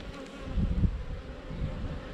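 Honey bees buzz during a beehive inspection in June, a steady low droning hum close by, continuous throughout with no talking.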